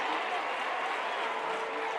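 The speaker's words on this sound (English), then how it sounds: "The crowd is so loud in here" A packed high school basketball gym roars at a boys' regional playoff game, a dense wash of cheering and clapping that stays loud and unbroken throughout the short stretch.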